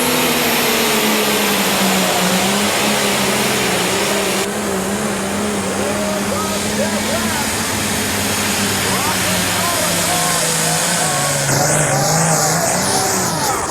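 A heavy pro stock pulling tractor engine roars continuously at high revs, pitch rising and wavering under load at a 1998 NTPA tractor pull in Bowling Green, Ohio, with an announcer's voice over it.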